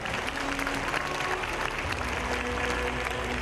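An audience at a motivational keynote claps for themselves, a continuous wash of applause with some faint crowd noise mixed in and low tones running underneath.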